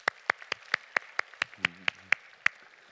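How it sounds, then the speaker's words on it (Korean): A church congregation at a Friday prayer meeting claps in a sparse, uneven pattern, about a dozen sharp, distinct hand claps spread across a few seconds at moderate distance, with no one speaking. "우리 박수 한번 쳐줍시다."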